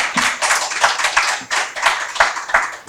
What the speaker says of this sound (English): let's give a round of applause for our awesome panelists